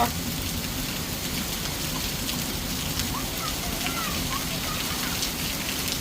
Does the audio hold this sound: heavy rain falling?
yes